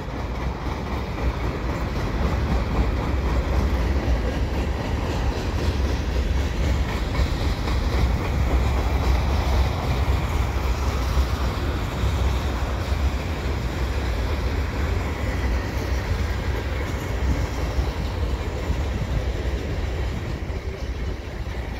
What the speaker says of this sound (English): The end of the train is coming up pretty soon.